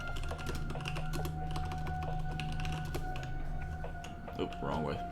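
Keys clatter on a computer keyboard in quick bursts of close, crisp taps, set against a steady low hum, with a short gap near the end.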